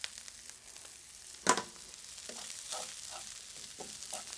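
Peas fry softly in one pan of leftover chicken fried rice as they are stirred, a quiet crackle broken by one sharp clatter of the utensil early on.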